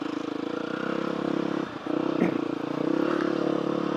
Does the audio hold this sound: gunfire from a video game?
no